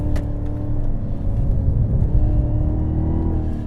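A 2016 Cadillac CTS-V drifts on a race track, its engine holding a loud, steady rumbling drone with slight swells in revs throughout, close and continuous with no talk.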